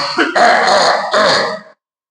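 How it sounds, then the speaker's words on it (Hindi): Two rough, rasping throat-clearing coughs close to the mic, the second following a brief pause, then silence. "ऐसी आवाज आपने खांसने की थी"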